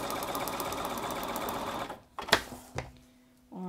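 A sewing machine runs a fast, steady stitching whir on quilt patchwork fabric for about two seconds, then stops, followed by a few clicks and handling knocks, close up.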